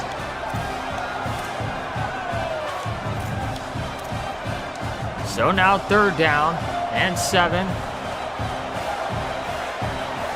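A football stadium crowd roars on third down, a broad continuous rumble under play-by-play commentary, with a brief louder swell of whoops and cheering midway before settling back to the steady din.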